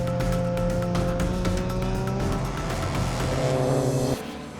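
Race cars lap at Ridge Motorsports Park during an endurance race, loud engines with rising pitch, tire noise and clatter up close before the sound drops off sharply near the end.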